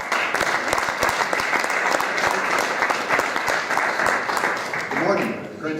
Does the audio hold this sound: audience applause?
yes